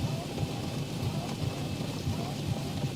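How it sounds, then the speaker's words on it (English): Steady simulated rain on a Boeing 737 airliner holding short of a runway at Seattle in the X-Plane 12 flight simulator, a dense constant hiss with low rumble throughout, no voices. "the rain looks pretty cool"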